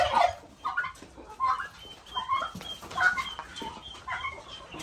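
Chickens cluck on a farm during egg collection, several short bright calls scattered across the clip at moderate distance with a rooster-like squawk at the start, no voices.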